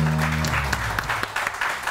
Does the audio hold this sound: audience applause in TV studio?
yes